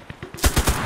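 Gunfire in the video game Cuisine Royale, a quick run of about six rapid shots: a few lighter pops followed by three heavier booming bursts.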